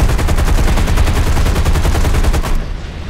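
A plane's gun fires rapid continuous bursts backwards in War Thunder, a loud, dense machine-gun rattle of evenly spaced shots that stops abruptly near the end.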